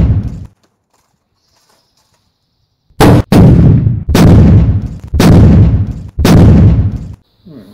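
Five loud HHO gas blasts in a copper box, close by: one sharp bang, a long silence, then four more booming explosions in quick, fairly even succession.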